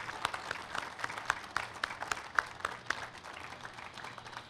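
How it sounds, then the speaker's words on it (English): Audience applause at a 50th anniversary celebration of Japan Center and Japantown Peace Plaza in San Francisco: many hands clapping steadily at moderate distance, fairly soft, with a few sharper claps standing out. "a big round of applause for all of them and all of you."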